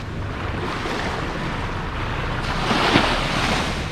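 Surf rolls and washes onto an empty beach on the north coast of the Dominican Republic, a continuous loud roar with wind buffeting the microphone.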